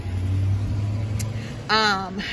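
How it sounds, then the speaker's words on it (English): A UPS delivery truck driving by close and loud, with a low, steady engine drone that fades after a moment. A voice comes in toward the end over the fading rumble. "And here comes the UPS truck, nice and loud."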